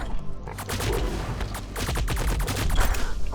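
Rapid rifle fire in a shooter-style video game, a dense loud burst of overlapping shots running continuously throughout with no voices over it.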